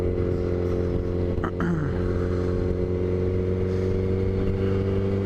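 Motorcycle engine running steadily while riding on a chilly evening after a fresh oil change, a loud continuous drone with a brief shift in pitch partway through, heard alone without talk.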